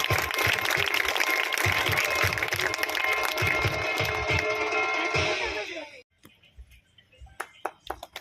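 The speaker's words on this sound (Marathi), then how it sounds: "टाळ्या वाजवून जोरदार स्वागत" A Zilla Parishad school audience claps loudly to welcome a guest at a school event; dense applause runs about six seconds, then stops abruptly, leaving a few scattered claps.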